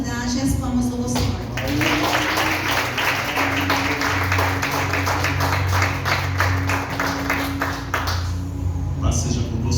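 A church congregation claps steadily in sustained applause through most of the stretch, with a held musical tone and voices underneath before it tapers off.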